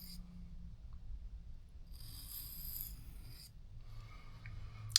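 A vintage pocket knife blade is stroked across a sharpening stone to shape the edge and belly. The sound is quiet, with a few separate rasping scrapes, each lasting about a second, and short pauses between them.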